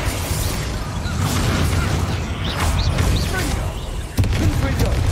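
A Bombarda explosion spell goes off in Hogwarts Legacy amid a continuous, dense roar of combat noise, with a sharp, louder burst near the end; a voice speaks over the mix.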